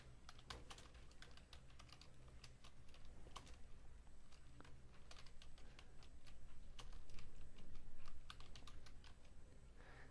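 Fingers type text on a computer keyboard in quick, continuous clicking bursts of keystrokes, close up and alone, growing slightly louder toward the end.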